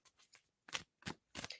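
Playing cards get a sloppy shuffle: a few short, soft riffling bursts separated by brief pauses, fairly quiet and close with no talking.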